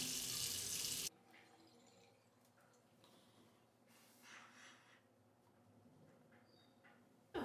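Running water from a tap splashes steadily as a clay face mask is rinsed off, with soft wet rubbing and splashing sounds close by and a louder gush at the start.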